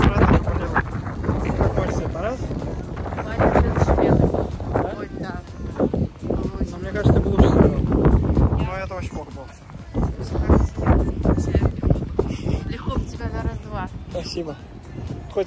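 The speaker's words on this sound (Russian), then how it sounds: "Очень милый ветер." Strong gusting wind at a tennis stadium in Doha buffets the microphone with a steady low roar that swells and eases throughout, with no voices.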